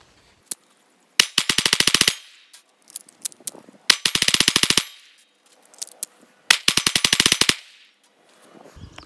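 Taurus G3C compact pistol firing in three rapid bursts of closely spaced shots, each a fast string of sharp cracks, with brief clicks and handling noises between strings during a torture test.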